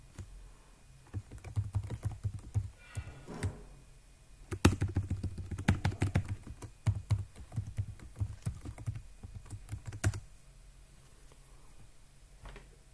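A password is typed on a computer keyboard while installing software on Ubuntu Linux, with several bursts of quick, close key clicks split by short pauses and no voices.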